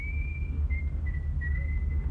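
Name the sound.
whistling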